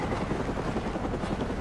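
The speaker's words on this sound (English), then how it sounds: "Go away, please, helicopter." Helicopter in the video game Batman Arkham Origins, a steady, dense rotor chop and engine roar that fills the scene, loud and continuous with no talking.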